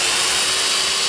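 A power sander whirs steadily against wood, a continuous bright, hissy grinding held at an even, fairly loud level throughout.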